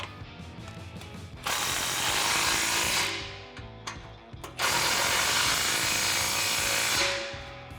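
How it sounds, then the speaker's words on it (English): Exhaust clamps being tightened where a cat-back muffler section joins the resonator on a 2018-2020 Mustang GT: two long, loud buzzing bursts of a power tool, each a second or two, close up, separated by brief quieter clicks. "we can line up our muffler section with our resonator section and tighten down these clamps"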